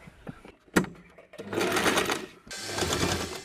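A sewing machine stitches a handmade tie in two loud, steady runs separated by a short pause. Brief knocks and handling noises come before the stitching starts.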